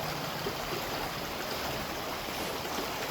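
A river flows in a steady, dense rush of water, loud and continuous throughout, with no voices heard.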